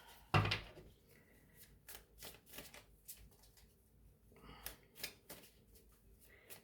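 Tarot cards are shuffled by hand: a sharp, loud riffling burst at the start, then softer irregular flicks and taps, close and quiet with no voices.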